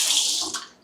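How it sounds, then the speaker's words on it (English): Water runs from a hotel shower at a beach resort in Cayo Santa Maria, Cuba, a close, loud steady hiss of flowing water that fades out toward the end. "the water pressure is pretty adequate"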